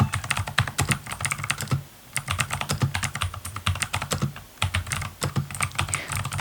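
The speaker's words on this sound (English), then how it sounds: "which when you press the button, it will make a click sound like this." Typing on a Rexus Legionare MX 5.1 mechanical keyboard with blue switches: rapid, crisp clicky keystrokes in quick bursts, close up and loud, with brief pauses between runs.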